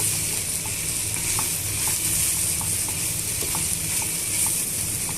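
Spices and asafoetida frying in hot oil for pickle-making produce a steady, close sizzle, with faint stirring taps scattered through it and no talking.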